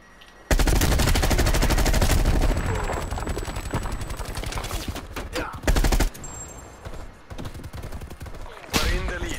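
Rapid automatic gunfire in Call of Duty Black Ops Cold War team deathmatch on the Nuketown map, loud sustained bursts with brief gaps and a final burst near the end.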